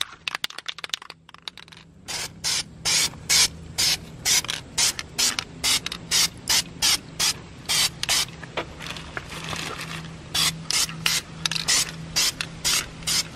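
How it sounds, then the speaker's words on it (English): Aerosol spray paint hisses onto a Honda Prelude brake caliper in a long series of short, sharp bursts, close up and fairly regular, with a low hum running beneath and a few rattles between. "I think I've got some time now to spray it."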